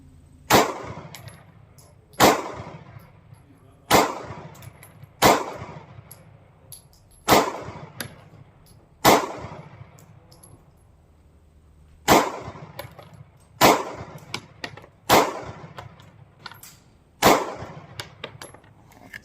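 A Sig Sauer P365 pistol fires single shots outdoors, about eleven sharp loud reports spaced a second or two apart, each with a brief ringing decay.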